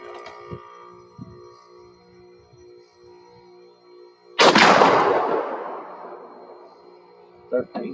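Single loud rifle shot from a handloaded cartridge, a sharp blast with a long decaying tail, set against a quiet hum and faint handling noises before and a brief knock after.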